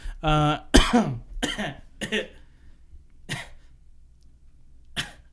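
Repeated sharp, close coughs in an irregular series, several bursts spaced over a few seconds, with a voiced sound at the start.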